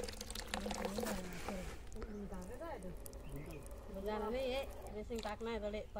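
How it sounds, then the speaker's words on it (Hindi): Water rushes steadily from a borewell driven by a spray-pump motor while someone talks over the flow. "तो अभी पानी फिर से चालू हो गया है।"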